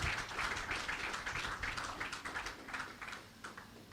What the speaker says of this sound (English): If you are clapping for the Lord, we can do better